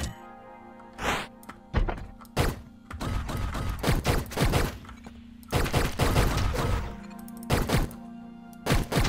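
Charging gun firing in the Hyper Light Drifter video game: a series of sharp, punchy thunks and blasts in irregular bursts, some close together, over a low steady hum, with no talking.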